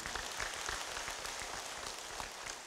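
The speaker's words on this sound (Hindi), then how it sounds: "जोरदार तालियां इनके लिए" A crowd at a gathering of activists led by Swami Ramdev in Kokrajhar, Assam, gives a sustained, fairly distant round of clapping, a dense even patter with no individual voices standing out.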